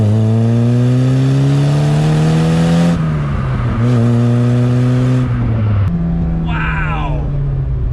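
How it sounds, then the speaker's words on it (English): A 1970s VW Golf GTI MK1 accelerates hard through the gears, its engine note climbing steadily with brief dips at each shift, loud and close throughout, with a faint high squeal near the end. "for an acceleration for a car that's over 40 years old, she's still got it"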